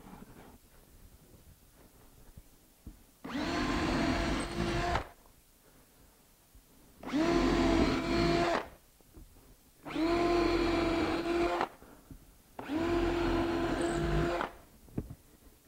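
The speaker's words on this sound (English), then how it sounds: "Now, why am I drilling from the inside?" Four separate bursts of a power drill whirring steadily, each lasting a couple of seconds, with quiet pauses and light handling noise between them.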